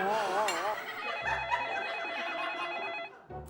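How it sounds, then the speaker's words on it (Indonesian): A telephone rings in a comedy scene, its bright trilling ring sounding continuously for a few seconds while someone speaks over it. "Bos, ada telepon tuh."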